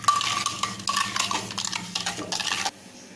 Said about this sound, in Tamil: சேர்த்து நல்லா மிக்ஸ் பண்ணிக்கோங்க.